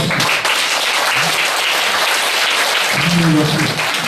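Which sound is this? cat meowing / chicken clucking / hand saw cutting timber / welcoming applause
welcoming applause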